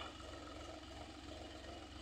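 A Massey Ferguson 45 horsepower tractor engine runs steadily at close range, a continuous low pulsing drone with fast knocking rhythm and no voices.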